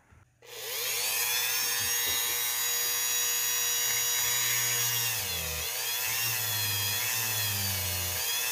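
An electric drill whirs at high speed close by, boring a hole in a plastic action figure limb with a 1/8 inch bit, its pitch wavering and dipping under load before steadying again, with no voices.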